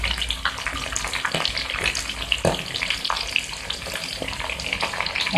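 Green chillies and ginger roast in a hot pan for Chicken Manchurian, giving off a steady close sizzle and hiss with occasional light scrapes and ticks throughout.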